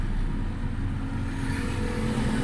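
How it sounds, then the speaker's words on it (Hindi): A 2005 Suzuki Baleno engine idling steadily at the correct RPM after a tappet and fuel fault was repaired, a constant low hum heard up close without talk. "पहले इसकी आरपीएम 2000 के ऊपर से नीचे नहीं आते थे, माशाल्लाह आरपीएम बिल्कुल सही नीचे आ रहे हैं"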